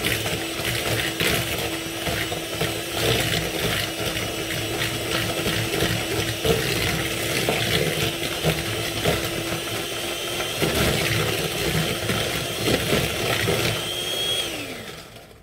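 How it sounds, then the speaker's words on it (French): An electric mixer whisks egg yolks for a Nutella tiramisu, giving a steady, loud motor whir with a constant tone and rattly mechanical texture that runs throughout before winding down at the end. "il faudra mixer jusqu'à blanchir les jaunes d'œufs"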